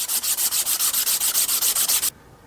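A rifle bolt is sanded by hand with 400 grit sandpaper, producing close, loud, even rasping strokes in a fast steady rhythm of about a dozen passes before stopping abruptly.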